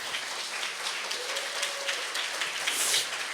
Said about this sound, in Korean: 여러분 박수 한번 쳐줘요.